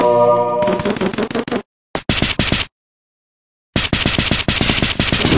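Rapid automatic gunfire in a video game: loud, close machine-gun bursts broken by short silences, then a long, sustained volley.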